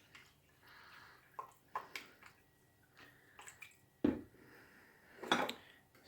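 Water is poured over ice cubes inside a Zojirushi 2.05-liter insulated bottle, with intermittent clinks, knocks and splashy gurgles of ice shifting, several sharp clunks standing out near the end, close and fairly quiet.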